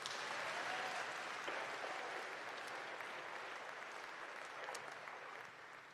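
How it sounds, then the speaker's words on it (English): At a Governors Cup event, a crowd gives a soft, steady round of applause that sounds distant. The claps hold evenly for several seconds and then slowly ease off. "Let's give them a round of applause, actually."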